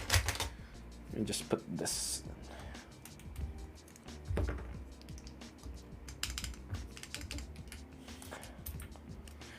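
Keys clatter on a wired mechanical keyboard in uneven clicky bursts, close and fairly crisp, while a person talks over much of the typing.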